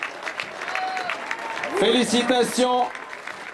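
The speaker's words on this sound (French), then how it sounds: "on applaudit bien fort le meilleur jeune de ce Tour de Romandie" Crowd of spectators in Lausanne applauding at the Tour de Romandie 2017 podium ceremony for a cycling stage, sustained clapping beneath an announcer's voice on the PA.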